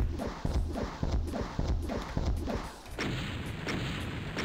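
Rockets fire from a launcher in Final Doom as a steady rhythm of loud blasts, about one every half second, each with a heavy low thump. The firing thins out near the end and there is no talk.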